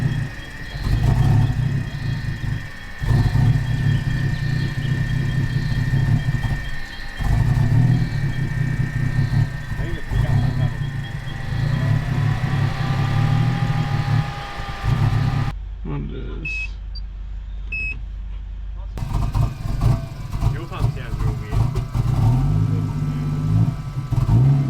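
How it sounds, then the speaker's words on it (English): A Toyota Landcruiser's engine labours and sputters on a rough off-road track, running unevenly with surging and faltering revs and intermittent beeps, cutting out briefly before rumbling on again, heard close with a voice talking over parts of it. "Listen to the following footage because my engine started having some major dramas"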